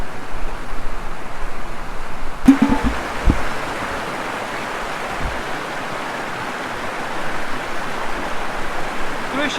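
The Osukhi river in a Chechen mountain valley flows with a steady broadband rush, close and continuous, with a few knocks and handling bumps early on.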